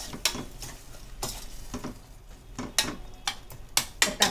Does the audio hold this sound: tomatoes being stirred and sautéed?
yes